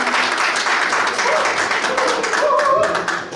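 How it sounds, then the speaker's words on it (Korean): Applause requested to welcome the women members at a Korean organization's meeting, a dense broadband patter of many clapping hands filling the moment, with a few voices and cheers rising through near the end. "힘찬 박수 한번"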